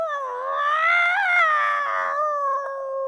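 A person imitates a cat yowling at night with a long, wavering, nasal wail that rises and falls in pitch, sustained close and clear for about three seconds with no other sounds.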